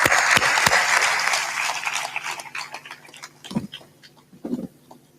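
A crowd claps at a spiritual satsang discourse gathering, dense and loud at first, then thinning into scattered, fading claps with a few louder bursts near the end.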